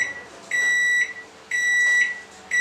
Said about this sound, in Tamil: இதை நான் ஒரு 1 மினிட் மைக்ரோவேவில் வைக்க போகிறேன்.